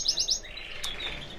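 Contest cage birds kept in a breeder's home chirp in quick, high trills, several bright tweets repeating close by, with a steady room hiss underneath.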